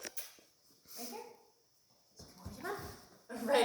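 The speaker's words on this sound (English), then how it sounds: "Litter mates are whining a little bit." Young puppies whine and whimper in short high bursts between quiet gaps, close by and fairly soft, while a person talks over part of the sound.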